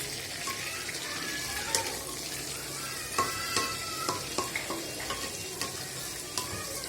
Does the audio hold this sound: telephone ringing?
no